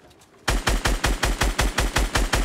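Rapid automatic gunfire in Fortnite, aimed at a balloon, breaks out after a short quiet stretch, a loud, close, evenly spaced burst of about nine shots that keeps going to the end.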